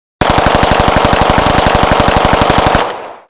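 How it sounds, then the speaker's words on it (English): Submachine gun effect: one loud, close, unbroken automatic burst of rapid evenly spaced shots lasting about two and a half seconds, then a brief fading tail. "in comes in the machine gun, the submachine gun"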